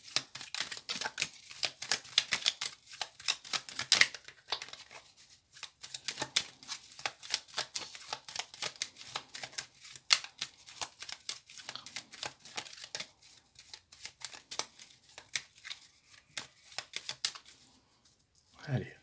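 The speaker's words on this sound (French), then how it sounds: "Je vais donc battre les cartes" An oracle card deck is shuffled by hand, giving a long run of soft riffling and slapping card noises in irregular bursts, close and fairly quiet, with brief pauses between them.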